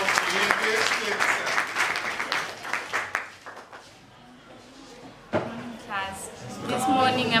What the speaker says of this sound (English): So let's clap hands for her.